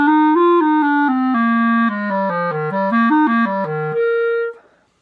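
A clarinet, freshly fitted with a reed on its mouthpiece, plays a short run of clear sustained notes moving up and down before ending on a held tone, close and loud with no talking.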